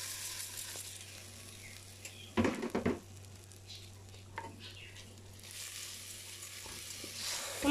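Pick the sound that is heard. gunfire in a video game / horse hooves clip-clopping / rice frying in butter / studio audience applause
rice frying in butter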